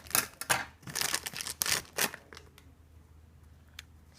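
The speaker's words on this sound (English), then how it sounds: "I'll just take my scissors and rip the bag." Scissors snip and tear open a plastic bag holding a squishy, producing a handful of sharp crinkling cuts and rips close by over the first two seconds before fading to quiet rustles.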